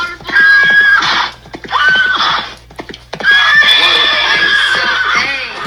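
A horse neighs loudly and repeatedly in a short social media reel, three shrill whinnies in a row with the last one longest, alongside a person talking over them.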